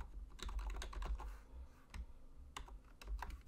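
Rapid, uneven keystrokes on a computer keyboard while coding JavaScript, close and crisp, arriving in short bursts with brief pauses and no speech.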